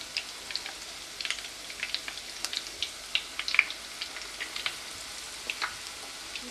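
Seafood pieces for fritto misto frying in hot oil, a soft, steady crackle of fine sizzling pops, fairly faint and close, with no talking.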